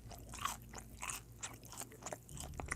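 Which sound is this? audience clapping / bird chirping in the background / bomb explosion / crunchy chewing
crunchy chewing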